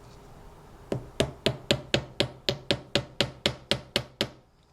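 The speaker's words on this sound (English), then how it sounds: "I'm just hitting over the top, and I'm just getting it to set in place" A hammer sets a jewelry-making rivet in sheet metal resting on a bench block, giving about fourteen sharp, evenly spaced metallic taps after a single lighter tap, steady and close, with no talking.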